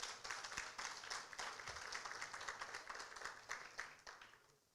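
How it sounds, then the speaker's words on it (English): Audience at a youth town hall debate gives the debate teams a round of applause, with dense, continuous clapping from a crowd throughout. "give a round of applause to all the teams first"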